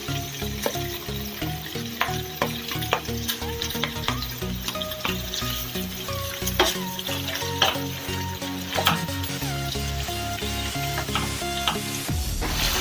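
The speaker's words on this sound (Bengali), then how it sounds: "টমেটো আর কাটা ক্যাপসিকাম গুলো আমি এর ভেতরে দিয়ে" Tomatoes and chopped capsicum frying in a desi chicken curry, a loud continuous sizzle with frequent stirring scrapes and clatter close up.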